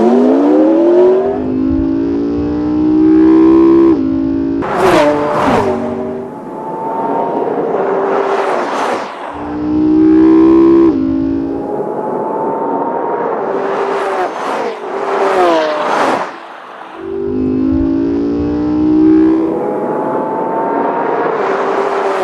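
A Lamborghini Aventador with a 6.5-liter V12 and a McLaren launch in a drag race, loud engines revving hard through rising gear pulls with sharp shifts and repeated surges, close and dominant with no talk.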